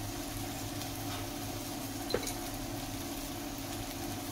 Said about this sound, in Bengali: এগুলো আমি আবার ভাজতে থাকবো